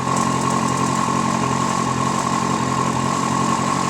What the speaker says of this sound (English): Gotta wait for the bike to warm up.